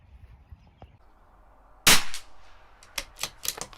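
CZ 457 LRP .22 rifle with an IBI barrel firing Norma Match-22 ammunition outdoors, one sharp loud crack with a short ringing tail, followed by fainter clicks and handling knocks.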